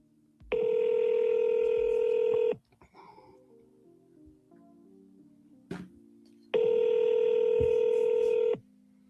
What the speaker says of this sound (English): Let's see if we can get Vlad on the phone.